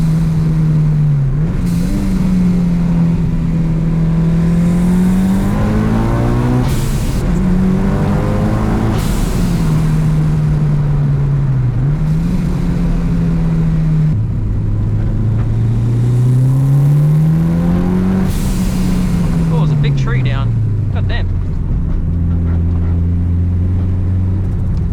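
A 1999 Mitsubishi Evo 6 with a turbocharged 4G63 engine on E85 fuel, heard from inside while driving, revs up and down repeatedly, its loud engine tone climbing and dropping through gear changes, with turbo whoosh in between.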